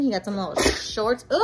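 A young boy sneezes once, a brief loud burst in the middle of the clip, with someone talking just before and after it.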